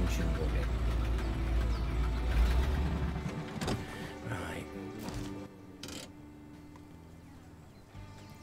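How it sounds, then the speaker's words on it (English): A TUZ truck engine idles in the off-road driving game Mudrunner, a steady low rumble running throughout with brief mechanical clunks partway through. "Is that my engine running?"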